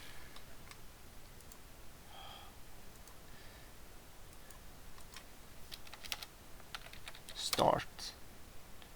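Computer keyboard typing as a Source game server is managed on CentOS, a steady run of light clicking keystrokes at close range with a brief louder burst near the end.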